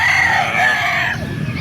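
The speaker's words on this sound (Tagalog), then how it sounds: "Pakita ko sa yung mga manok dito." A rooster crows loudly and close by at the Calumpit tiangge poultry market in the Philippines, one long drawn-out call that fades into a low murmur of market background.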